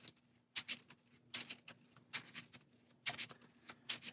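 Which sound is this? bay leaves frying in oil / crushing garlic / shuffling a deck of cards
shuffling a deck of cards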